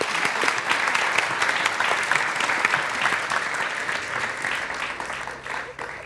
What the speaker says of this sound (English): thank you very much for the panel, ladies and gentlemen. They do deserve an applause.